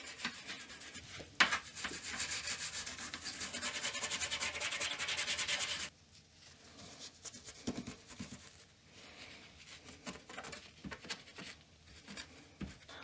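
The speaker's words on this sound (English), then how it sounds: "I'm gonna clean the area really good with lots of alcohol, and just to remove the loose corrosion and everything" Corrosion is scrubbed off an Amiga 2000 circuit board with alcohol in a steady rasping rub for several seconds, followed by quieter, intermittent scratchy strokes.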